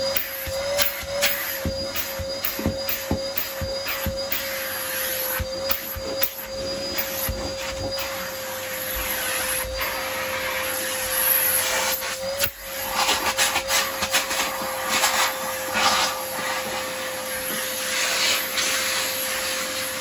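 A Numatic Nuvac VNP180-2 vacuum cleaner runs with its hose attached, a steady close motor whine holding throughout with scraping and clicking as the hose moves.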